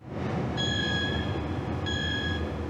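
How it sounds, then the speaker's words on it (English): A crowded passenger train rolls with a steady loud rumble, and two drawn-out high metallic wheel screeches cut through it, the second arriving after a short gap. "We stood shoulder to shoulder, swaying as the train screeched and jolted."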